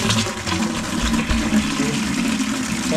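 Water and air gush loudly from an opened boiler water feed, a turbulent hissing rush with sputtering bursts underneath, continuous for the whole stretch.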